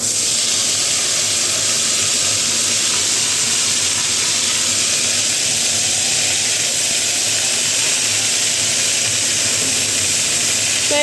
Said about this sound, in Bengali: আগে শাক ভাজাটা করে নিই